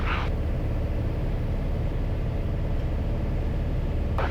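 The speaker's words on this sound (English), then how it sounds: "That's just a fuel pump." A steady electric backup fuel pump hums inside a light aircraft cabin during a tank change, a constant low drone blended with engine rumble, with short bursts of something else at the start and end.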